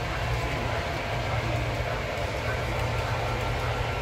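A model train with onboard sound runs around a museum layout, a continuous loud rolling rumble and hum with no pauses.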